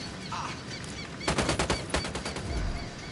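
Bursts of game gunfire from a tactical shooter, Ghost Recon Wildlands, rattle out in a quick cluster of sharp cracks over a steady background ambience, with a brief lull before scattered shots resume.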